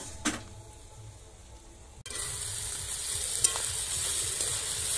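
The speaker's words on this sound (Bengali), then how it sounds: "তো আমি ঢাকা খুলে শাক আর সবজিগুলো ভালোভাবে রান্না করে নিচ্ছি" Potato greens and mixed vegetables cooking in an open pan, first a quiet simmer, then a sudden rise into a steady, close frying sizzle with faint stirring scrapes.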